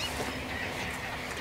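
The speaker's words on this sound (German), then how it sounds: "Du hörst sämtliches Geschnatter, Gänse." A distant flock of geese and ducks honk and cackle faintly and continuously across a breeding area in rural East Frisia, with no voices over them.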